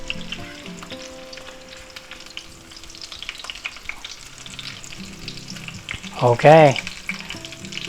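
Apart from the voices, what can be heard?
chicken cutlets frying in a pan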